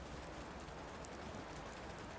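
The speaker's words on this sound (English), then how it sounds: "now it's drizzling. Before it was really heavy rain." Light drizzling rain in the Fallout 4 video game makes a faint, steady patter and hiss with occasional soft drop ticks, with no talk over it.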